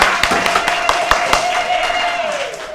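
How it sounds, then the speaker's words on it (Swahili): Students clapping for a classmate in a classroom, a short burst of scattered, uneven handclaps close by, alongside a sustained vocal tone. "Tumpigieni makofi jamani."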